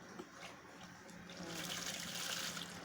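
Tap water runs steadily while a fabric facemask is washed by hand, the broadband splashing stream growing louder and denser halfway through and continuing to the end, with no talk over it.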